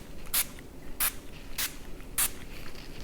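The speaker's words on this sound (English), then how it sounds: "We spray this on our face." A face mist is spritzed in four short, evenly spaced bursts, each a soft airy hiss heard up close in a quiet room.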